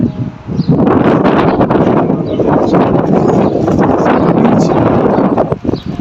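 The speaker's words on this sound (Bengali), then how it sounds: "বাতাস ছাতার মধ্যে" Wind gusting steadily against an umbrella outdoors, a loud, continuous rushing buffet with rustling flutter and irregular peaks throughout, close to the microphone.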